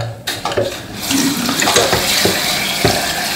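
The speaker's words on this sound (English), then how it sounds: "This can come out, so now we can wash our film." Water runs steadily from a tap into a sink while black-and-white film is washed after home developing, with a continuous rushing flow and occasional clinks of the tank.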